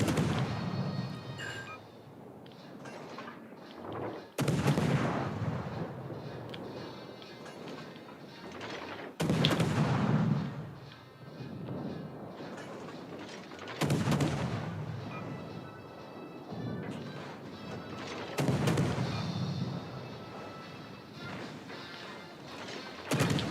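Naval artillery fire in a warship battle game, five heavy booming salvos landing at regular intervals, each a loud crashing blast fading into a rumbling tail, with no talk.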